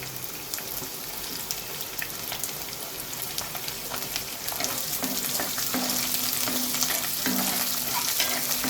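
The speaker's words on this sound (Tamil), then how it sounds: "ஒரு கை ஃபுல்லாக வெங்காயம், சின்ன வெங்காயம் அரிஞ்சு வச்சுருக்கோம். அது போட்டுக்கலாம்." Chopped small onions (shallots) sizzle in hot oil for an anchovy fish curry, a steady, close crackling fry with intermittent stirring scrapes that grows slightly louder midway; no one speaks.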